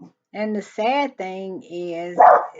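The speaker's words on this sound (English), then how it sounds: "I had to correct my dog. He wanted to go off on the neighbor." A dog barks at a neighbor, several close, loud barks in a quick run with a brief spoken phrase just before them.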